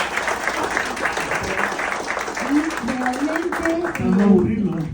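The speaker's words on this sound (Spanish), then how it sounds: "felicitamos realmente un gran aplauso para nuestro escritor." Audience applause at a Salvadoran cultural event and book launch in Montreal, honoring the author; steady clapping fills the room while voices speak over it and build toward the end.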